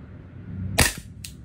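A VFC Colt XM177E2 gas blowback airsoft rifle fires a single sharp, close crack with a snappy bolt clack, followed by a shorter second click, over a quiet background hum.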